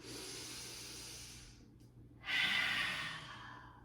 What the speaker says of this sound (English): Take 3 full breaths here. Breathe in fully. Breathe out.